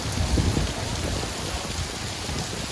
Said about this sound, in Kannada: ಮಳೆ ನೋಡಿ ಹೆಂಗೆ ಬೀಳ್ತಾ ಇದೆ ಜೋರು ಮಳೆ ಬೀಚ್ ಹತ್ರ ಬರ್ತಾ ಇದೇನೆ ಜೋರು ಮಳೆ